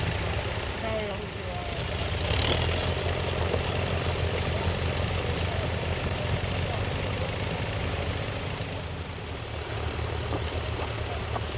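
Tractor engine running steadily throughout a ploughing session in a field, a constant loud low rumble with voices talking over it at times.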